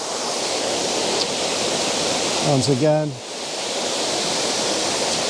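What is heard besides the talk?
waterfall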